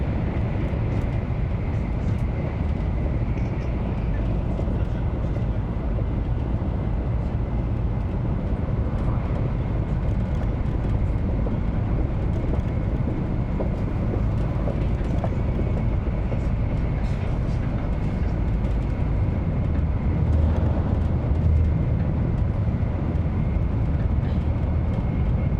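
Inside a Japanese bullet train running at about 180 miles per hour near Mount Fuji, a constant loud rumbling roar of the carriage fills the whole stretch with no pauses.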